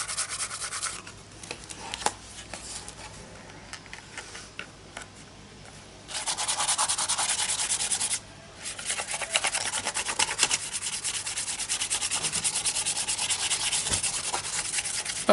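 A card spreads paint across an art journal page in long, steady scraping and rubbing strokes, close and fairly quiet, with a brief pause and then a louder, continuous pass, and no talk.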